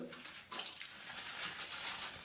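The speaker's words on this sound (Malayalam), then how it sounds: "എല്ലാ ദിവസവും ടാപ്പിൽ നിന്ന് ഇത്തിരി വെള്ളം ഈ കവറിലെടുത്ത്" Tap water runs into a plastic bag inside a bathroom, a soft steady trickle and splash that swells slightly after the first half second and stays faint throughout.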